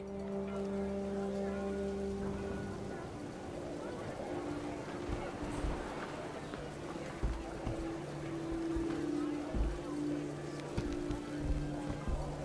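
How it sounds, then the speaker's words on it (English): Heavy rain pouring down in What Remains of Edith Finch, a steady hissing downpour drumming on a tent under low sustained tones, with occasional louder thumps. "The rain came down in buckets then"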